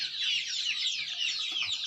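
Desi chickens and chicks cluck and peep in a steady, busy chorus, close and fairly loud with no break, at a poultry farm selling chicks of every breed.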